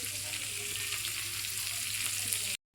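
Tilapia fish frying in a pan at night, a steady close hiss and crackle of hot oil running continuously before cutting off abruptly near the end.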